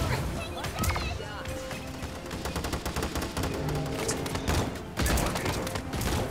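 Rapid bursts of gunfire crackle through a Paladins video game firefight, shots overlapping in dense volleys with brief pauses, loud and continuous throughout.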